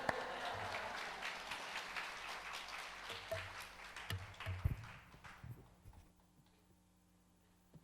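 A church congregation at a prayer retreat claps to welcome the preacher. Steady applause starts loud and then thins into a few scattered claps, fading to near silence by the end.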